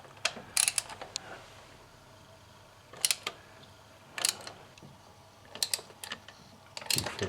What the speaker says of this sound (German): jetzt löst er die Schrauben der Reihe nach ab